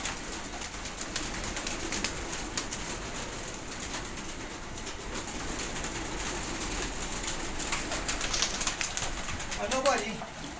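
Soft pigeon cooing over a steady background hum, with faint bird calls near the end.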